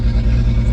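A car engine, just back running after a head gasket repair and with the wideband O2 sensor pulled off the downpipe, holds a steady raised throttle: a loud, close, even drone with a rough pulsing edge.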